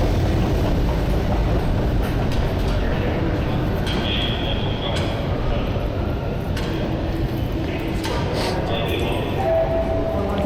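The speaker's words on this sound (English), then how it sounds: "And that train is still standing there." A Toronto TTC subway train stands at a station, giving a loud steady rumble with clanks and brief hisses, while people talk over it.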